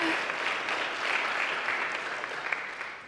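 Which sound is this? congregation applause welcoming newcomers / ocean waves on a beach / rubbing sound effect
congregation applause welcoming newcomers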